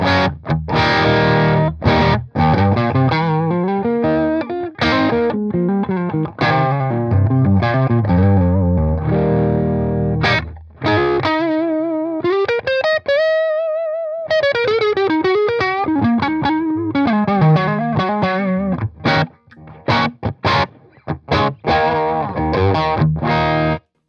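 A heavily distorted electric guitar plays loud chords and sustained notes, with a few brief pauses between phrases, with no talking.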